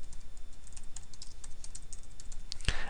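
A name being typed on a computer keyboard: quick, light key clicks in an uneven stream, close up, ending with one firmer, louder keystroke.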